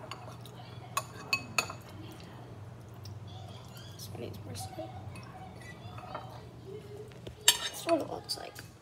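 A spoon clinks against a bowl of homemade pancake cereal in a few sharp, scattered taps, with a louder burst of clinks near the end, over a steady low hum and quiet voices.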